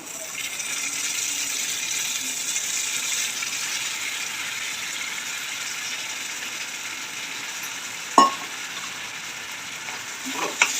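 Soaked chana dal tipped into a hot pan of oil with chopped tomato for a bitter gourd curry, giving a steady loud sizzle throughout, broken by a sharp clatter near the end and a couple of brief knocks.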